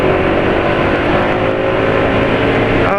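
A motorcycle engine running on freshly changed Total 4T oil revs steadily and loudly up close, a continuous buzzing drone with no talk over it.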